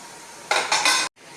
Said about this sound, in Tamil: இந்த மாதிரி மூடி வச்சிடலாம்.